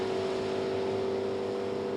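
A 428 Cobra Jet Mustang drag car with an automatic transmission roars hard and steady off the line at a drag strip, a loud sustained engine blare heard from nearby.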